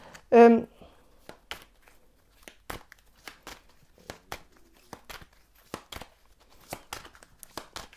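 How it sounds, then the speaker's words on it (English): Tarot cards being shuffled for a pick-a-card reading, a string of short papery riffles and flicks spread across the stretch, with a brief burst of speech near the start. "I'm going to shuffle a little bit more."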